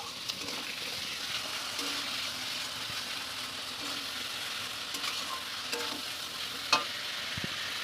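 Hilsa fish fries in hot oil with a constant crackling sizzle, punctuated by occasional sharper pops and faint stirring sounds, close and moderately loud throughout.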